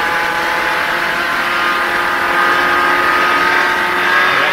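A NASCAR race car at Watkins Glen in 1990, running at around 170 mph, produces a loud, continuous high-pitched engine drone that holds steady from start to finish.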